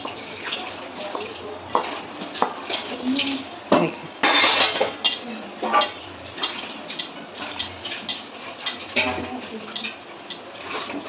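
A utensil stirs dhaba-style chickpea curry with jaggery powder in a pot, making irregular scraping and clinking against the metal. The sounds come close and fairly quiet, with a sharper clatter midway.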